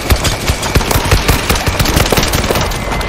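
Heavy, continuous automatic gunfire from the zombie game World War Z Aftermath, loud and close with fast rattling shots filling the whole stretch and no voices over it.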